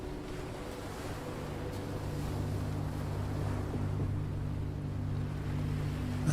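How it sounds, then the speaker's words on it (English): Distant waves wash softly against a shore in a continuous, even roar, with a low steady hum beneath and no voices. "is the distant sound of waves against the shore"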